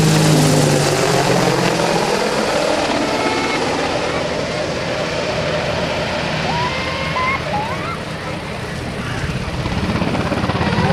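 Military helicopters departing together at Rotorfest, a loud, dense roar of rotors and engines with a steady thumping wash that swells and eases slightly, while a voice talks over it.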